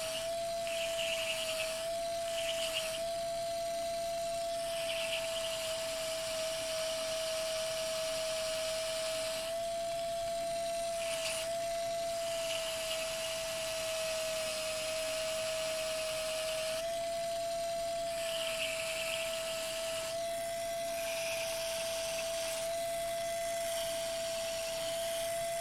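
A modified pedicure wand sanding tiger's eye stones runs continuously as a steady high-pitched electric whine, with gritty scraping that swells and fades as the stone is pressed against it.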